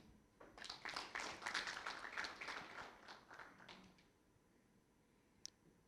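An audience at an oil industry panel discussion gives a faint burst of hand clapping lasting about three seconds, then it dies away, leaving a single soft tap near the end.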